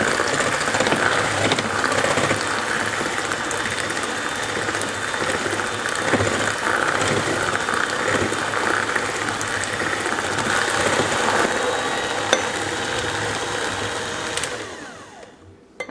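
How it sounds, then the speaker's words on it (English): An electric stand mixer runs on low speed, kneading sweet bread dough for Chamorro sweet bread, with a steady, loud whirring and grinding drone throughout that cuts off at the very end. "I've got this mixer speed on low"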